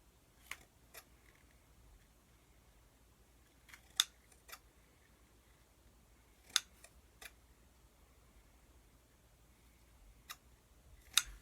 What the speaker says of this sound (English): Scissors, trim it up a little bit if you want to.